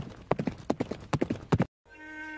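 Donkey cart hooves clip-clop in a rural Pakistani cartoon, about nine close, even hoofbeats, followed by a brief silence and a steady tonal hum.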